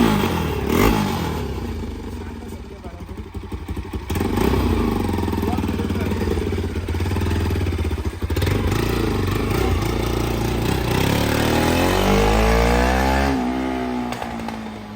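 A Bajaj NS200 motorcycle fitted with an Akrapovic exhaust, engine running loudly and close, revving up and down with rising and falling pitch for the whole stretch, no talking.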